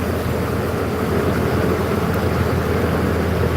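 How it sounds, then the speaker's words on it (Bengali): A boat engine drones steadily on a river crossing near Mirpur, Dhaka, humming continuously at close range, loud and unbroken, with no voices. "ওই এলাকার মানুষ তাদের একমাত্র যানবাহন হইলো এই কেয়া নৌকা"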